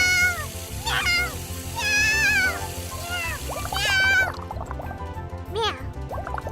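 A person imitates a cat, giving a series of high, wavering meows one after another over a low pulsing background, with a brief quieter stretch near the end.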